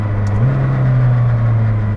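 Engine of a McLaren Senna, an 800-horsepower supercar, holding a steady, loud low drone throughout, likely idling or cruising, heard close with no talk.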